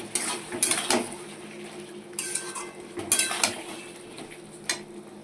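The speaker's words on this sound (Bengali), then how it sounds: "এবার আমি চিংড়ি মাছগুলোর মধ্যে দিয়ে দিচ্ছি। দিয়ে এবার ভালো করে এটা মিশিয়ে নেব।" Prawns being stirred into a spiced mixture in a pan for a bottle gourd and potato prawn dish, with soft scraping and a few sharp spoon-on-pan clinks over a faint low sizzle.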